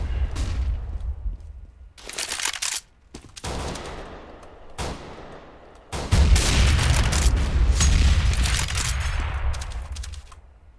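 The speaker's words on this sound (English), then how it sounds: "Deploying flashbang." In a Counter-Strike: Global Offensive match, a flashbang goes off among bursts of gunfire: loud, close shots break up quiet gaps, then heavy continuous firing and booms pile up over the second half.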